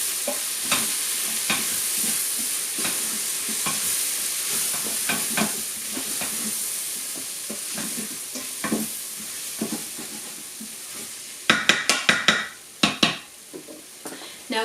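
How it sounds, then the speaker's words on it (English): Curry powder sautéing with onions and ginger in a pan, a steady close sizzle with repeated scraping stirs, then a burst of louder clanks and scrapes near the end. "Now what I'm going to do is I'm going to put the curry powder in and saute that for a couple"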